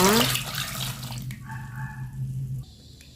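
Water pouring in a kitchen while salted duck eggs are being prepared with boiled brine; a brief rushing splash into a container, moderately close, followed by a softer trickle that stops abruptly near the end.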